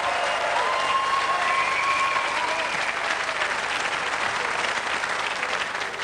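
An audience in a French quiz-show studio applauds two contestants in the final, with steady, dense clapping that holds at an even level for several seconds and fades slightly toward the end.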